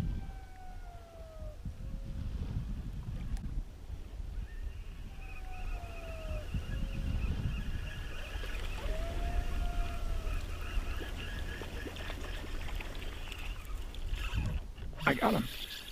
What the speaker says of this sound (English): that's a coyote howling at the moon